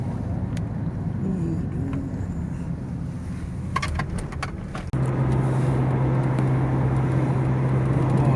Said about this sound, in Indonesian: Terjadi kemacetan panjang dari Bitung ya, sampai dengan Tomang ini kelihatannya ini harus balik.